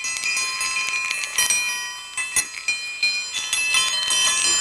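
Baoding balls chime with bright, sustained metallic rings like small temple bells, a series of overlapping strikes that shimmer and decay close by.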